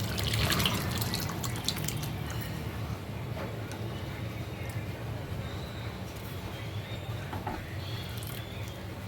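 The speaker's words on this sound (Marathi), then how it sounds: "मी थोडंसं अजून पाणी टाकते" Water pours and trickles into a pot of amti (dal curry), a close splashy burst at first that settles into a quieter steady dribble.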